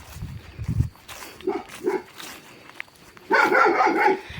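A dog barks a few times nearby, short gruff woofs spaced apart, ending in a louder burst of barking.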